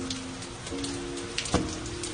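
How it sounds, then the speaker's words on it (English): Rain falling steadily, a constant close patter and hiss on a surface with a few sharper drips, accompanied by faint steady tones in the background. "This time it's raining"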